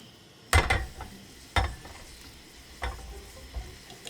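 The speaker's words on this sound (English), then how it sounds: "now that our water is boiling, let's go ahead and add in about 10 caramels to start" Several soft plops and splashes as caramels drop into a pot of boiling water, spaced apart, over a quiet bubbling background.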